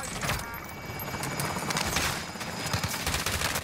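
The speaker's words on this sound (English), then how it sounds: "Stop shooting at me" Rapid gunfire in Call of Duty Cold War Warzone, rattling automatic bursts and scattered shots at moderate distance amid continuous battle noise, fairly quiet overall.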